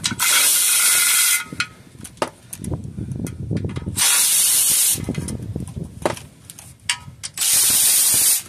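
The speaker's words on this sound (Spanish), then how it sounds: "Vamos a empezar a quitar los tornillos." A ratchet wrench loosens bolts on the transmission pan of a 2001 Toyota Sequoia 4.7, with loud bursts of spraying hiss in three long stretches and quick clicking ratchet strokes between them, close and alone.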